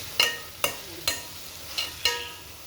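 Dried prawns fry in a pan with sharp crackling bursts that flare about every half second, five pops in all, set against a quiet low background.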